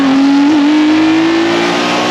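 A loud, close Acura NSX sports car engine with individual throttle bodies and a titanium exhaust revving hard, a raspy exhaust note climbing steadily in pitch before cutting off abruptly.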